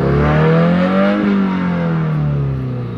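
A 2016 Subaru WRX engine revs high and then eases off, its pitch sweeping up and falling back in a smooth, loud, close-up drone with no talking.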